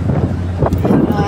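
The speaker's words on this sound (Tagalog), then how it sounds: "sobrang lakas ng hangin, oh." Strong wind at the Jolo port in Sulu buffets the microphone with a loud, low rumbling roar, while people talk over it.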